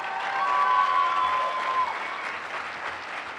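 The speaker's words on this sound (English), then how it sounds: "Welcome, Philip and Megan. Round of applause." At an awards night, an audience applauds to welcome two guests. Dense, sustained clapping with a hint of cheering swells, then gradually eases off, and a thin whistle-like tone rings briefly partway through.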